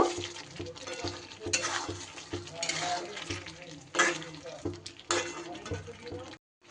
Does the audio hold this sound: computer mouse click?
no